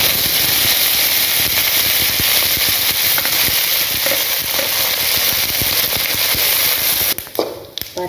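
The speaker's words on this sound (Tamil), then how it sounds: "இதை இந்த எண்ணெயில் போட்டு நம்ம நல்லா வறுக்கணும்" Curry leaves frying in hot oil for a Tamil pirandai, mint and coriander thuvaiyal. The sizzle is loud, dense and crackling and continues steadily for about seven seconds before it abruptly dies away.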